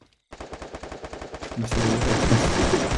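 Gunfire in the Free Fire video game: a rapid machine-gun burst of evenly spaced shots, then a louder, denser barrage of overlapping fire near the end.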